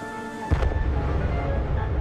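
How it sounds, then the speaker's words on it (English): An emergency detonator cap on a railway line bursts as a train runs over it in a gorge: one sharp, loud bang that rings out and decays into a rumbling echo, with nothing else sounding. "The bang echoed round the gorge."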